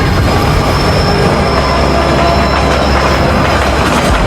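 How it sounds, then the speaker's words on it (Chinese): A subway train rumbles through a tunnel with a loud, steady roar and a thin high squeal that holds throughout. "地铁正好穿过"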